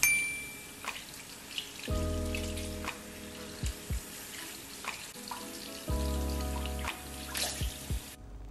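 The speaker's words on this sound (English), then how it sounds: "I decided to run myself a bubble bath." Water runs from a tap into a bath being drawn for a bubble bath, a steady splashing flow broken by a few brief knocks and clinks, close and moderately quiet, with no voices.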